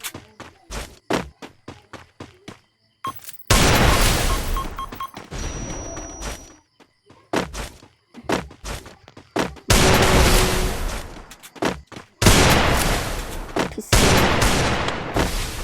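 Gunfire from a shooting video game: dense bursts of rapid automatic fire alternate with brief single shots and short pauses, loud and close, with no talking.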